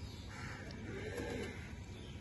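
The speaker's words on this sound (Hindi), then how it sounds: "कबूतरों को बाहर निकाल लिए" Soft, low cooing of pigeons, racing birds being readied for a pigeon-flying contest in Lahore, murmurs steadily through a continuous bed of ambient noise, with no voices present.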